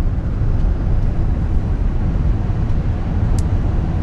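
A big truck rumbling past on a Texas road, a low, broad engine and tyre roar that stays fairly steady and close for several seconds.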